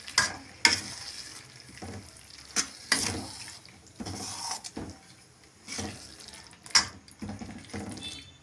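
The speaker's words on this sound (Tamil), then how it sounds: "இப்போ நம்ம எண்ணெயில் வதக்கி வச்ச கத்திரிக்காவை சேர்த்துடலாங்க. நல்லா கலந்து விட்டுக்கலாங்க." Oil-fried brinjal stirred in a pan for brinjal thokku, with irregular scraping and clattering strokes of the spoon over a soft sizzle, close and fairly loud, no talk.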